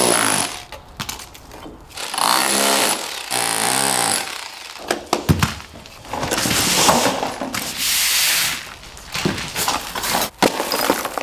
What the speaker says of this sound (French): Et un marteau perforateur et un burin.